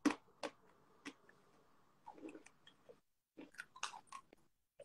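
Close, crunchy chewing and biting of food comes in irregular loud bursts with quiet gaps between, no talking over it.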